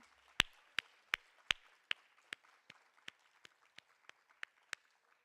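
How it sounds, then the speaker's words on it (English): Sparse, slow claps ring out one at a time in a steady rhythm, about a dozen sharp hits in a quiet hall, after a Bharatanatyam arangetram dance performance. "Lara, I think everybody wants to give you another round of applause"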